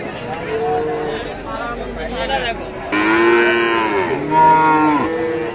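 Cattle at Raniganj market in Dinajpur, including Friesian heifer calves and bulls: several loud, close moos with rising and falling pitch, some overlapping, over a busy background of people talking and crowd chatter.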